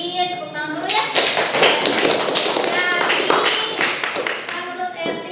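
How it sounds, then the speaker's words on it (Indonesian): A classroom of vocational electronics students claps for a classmate, a burst of scattered applause with taps and thumps and a teacher's voice speaking at the start and end. "Tepuk tangan dulu ya."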